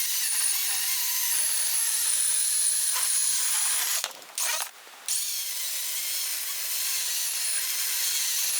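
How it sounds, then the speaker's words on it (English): A DeWalt DCM565 18V cordless chainsaw cuts through large pieces of timber, giving a loud, steady buzzing whine that dips briefly twice partway through before running on continuously. "it is cutting through some fairly large pieces of timber"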